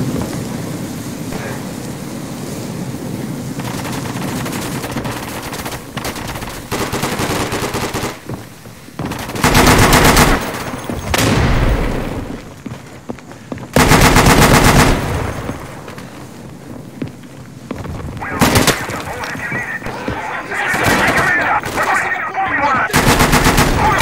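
Bren light machine gun fire in the video game Day of Infamy during a battle defending Crete, with loud, dense bursts of rapid shots and heavy blasts that stop and start against a constant din of distant battle.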